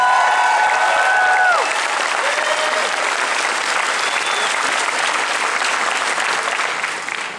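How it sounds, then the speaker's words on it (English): Sustained audience applause fills a fan convention panel for a television show, steady and dense throughout, with a few cheers or voices near the start, tapering slightly at the end. "Big round of applause for him."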